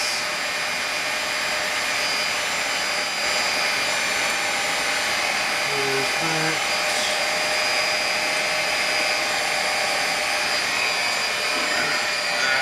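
A steady, loud electric stand mixer drones without pause while working pizza dough for a Dayton-style pizza, with a constant whirring hum and no voices.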